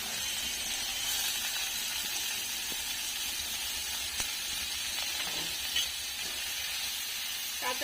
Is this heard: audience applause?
no